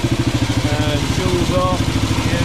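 A Norton Model 50 single-cylinder motorcycle engine runs steadily with an even, thumping exhaust pulse close by, while voices talk over it.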